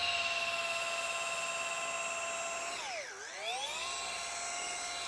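An electric polisher buffs oxidation off a car hood, a loud steady high whine that dips sharply in pitch for a moment around the three-second mark before climbing back to full speed.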